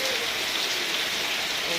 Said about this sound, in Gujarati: વરસાદ